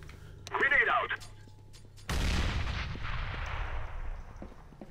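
A grenade detonates in the video game Counter-Strike: GO: one loud, sudden blast that rolls off into a long, fading rumble over several seconds, with a short burst of voice just before it.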